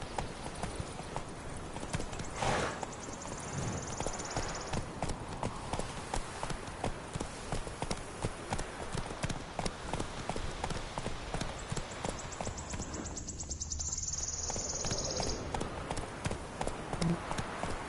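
A horse's hooves galloping in a steady, quick clip-clop rhythm on a road in a fantasy role-playing game, moderately close, with faint background ambience and brief voices.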